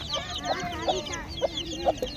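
A hen clucks near a slum shelter where she keeps her many chicks, with several short, repeated clucks in an uneven rhythm at close range over a steady background of faint murmuring.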